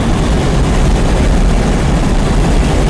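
A 1977 Pontiac Trans Am engine runs steadily at about 2,400 RPM while driving near 60 mph, giving a loud, constant broadband roar with a heavy low rumble and no talk.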